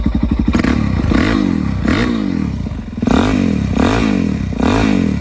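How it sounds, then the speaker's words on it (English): A Suzuki DR-Z400SM engine runs loud and close through a raspy, aggressive aftermarket Yoshimura exhaust, with repeated throttle blips rising and falling. "So it starts good, runs good. The Yosh exhaust is really loud."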